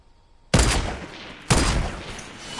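Two loud gunshot bursts in the Fortnite video game, the first at about half a second and the second a second later, each decaying slowly into a lingering tail with no talk over them.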